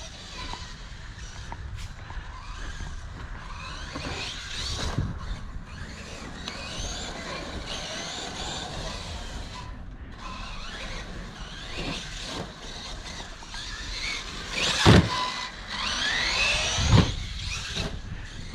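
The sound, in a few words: Team Associated DB8 RC buggy driving on a track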